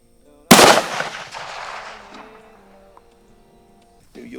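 A Remington 700 7mm Magnum rifle fires a single loud, sharp shot at an outdoor range, its boom rolling off into a long echoing decay, followed by faint movement.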